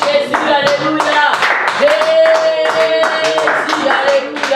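A church congregation claps and cheers for Jesus at a worship service. Loud, dense applause mixes with voices and shouts the whole way through.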